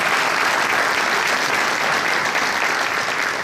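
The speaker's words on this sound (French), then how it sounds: "On peut les applaudir, qui sont dans la salle." A crowd in a town hall at a municipal council installation applauds visiting councillors, a full, even roar of clapping that holds steady throughout.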